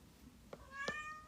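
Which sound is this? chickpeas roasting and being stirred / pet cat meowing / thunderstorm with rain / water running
pet cat meowing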